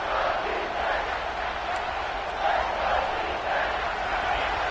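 A stadium crowd roars in a college football video game between LSU and Georgia, a broad steady rumble of distant cheering that swells slightly midway.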